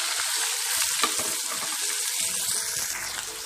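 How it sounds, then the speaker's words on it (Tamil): Chopped onion, garlic and curry leaves sautéing in hot oil, a loud continuous sizzle with occasional stirring scrapes, heard close and alone. "வெங்காயம் பூண்டுலாம் நல்லா எண்ணெயிலே வதக்கிக்கலாம் கொஞ்ச நேரம்."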